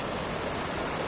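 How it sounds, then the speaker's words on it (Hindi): Lakhaniya Dari waterfall near Mirzapur pours down over rock in a steady, dense broadband rush of falling water, continuous and fairly close, with no voices over it. "ये प्रपात अभी पानी गिर रहा है"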